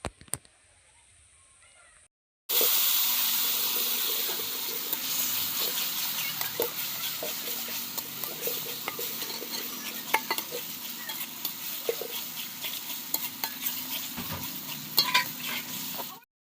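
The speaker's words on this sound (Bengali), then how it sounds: "মশলাগুলো ভালোভাবে নেড়ে কষিয়ে নিচ্ছি" Spices with ginger and garlic paste being stir-fried in a pan, a sudden loud sizzle after a quiet start, then continuous frying hiss with scraping and light clinks of a spoon stirring, no talk.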